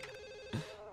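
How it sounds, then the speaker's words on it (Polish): A telephone rings in The Sims video game, giving a quick, bright trill of a ringtone followed by a brief thud. The sound is quiet and there is no talking. "Telefon! Telefon!"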